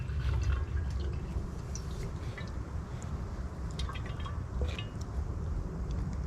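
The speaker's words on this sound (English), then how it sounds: "So I am filling up the canteen now." A canteen is filled outdoors in the bush with water strained through a bandana, a steady close trickle with scattered drips running continuously without talk.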